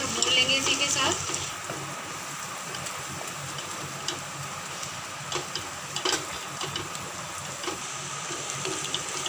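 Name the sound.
onions and green chillies frying in a pan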